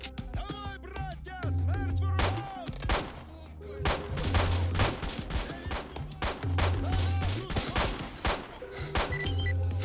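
Gunfire from the shooter game STALKER rings out in rapid, overlapping bursts and single shots, loud and close, with sharp cracks repeating across the whole stretch.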